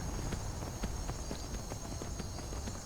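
Horse hooves walking on a road in the modded Skyrim Special Edition game, a steady, faint clip-clop with evenly spaced footfalls under a constant background hum.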